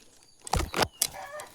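A farm hen, agitated and stirred up, giving a few short, close clucks in quick bursts, with quiet pauses between.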